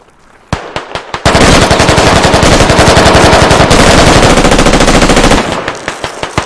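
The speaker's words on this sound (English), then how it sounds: "Stop shooting at friendlies" Machine gun fire in the video game Squad, a few single shots leading into a long loud sustained automatic burst, then trailing off into scattered shots.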